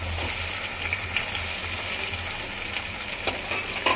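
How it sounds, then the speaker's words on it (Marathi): Boiled potatoes go into hot oil in a wok, giving a steady, bright sizzle with a few small clinks and scrapes near the pan, no voices. "ह्याच्यामध्ये घालायचे आपण हे बटाटे."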